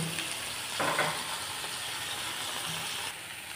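Salted vegetables sizzle in a pan with a steady, even hiss, broken by a brief scraping stir around the one-second mark.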